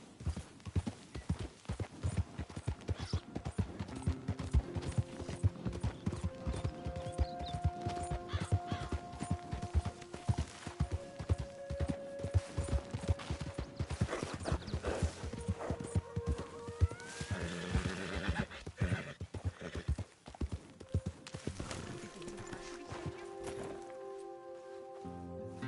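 Horse hooves clip-clopping in a PS4 video game, a fast, even rhythm of close hoof beats, with whinnies and sustained game music tones layered over the trotting.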